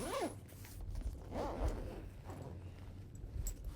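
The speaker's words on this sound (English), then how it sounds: "Like I said, finding all the zippers." Suitcase zippers are pulled open while packing, with quick zipping strokes at the start and again partway through, close and fairly quiet among soft handling rustles.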